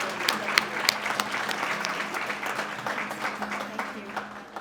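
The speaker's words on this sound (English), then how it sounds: "Let's welcome her with a round of applause." Audience applause greets a guest speaker at a campus menorah candle lighting, a steady burst of many hands clapping at moderate distance, with no talk over it.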